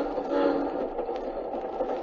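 Overnight train journey in an old radio drama, with a steady mid-level rumble and faint rhythmic rolling of the carriage running continuously with no voices.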